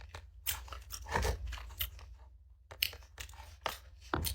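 Crisp crunches of teeth biting into fresh strawberry and pear, several sharp bites followed by close, wet chewing, repeating in bursts with brief pauses between them.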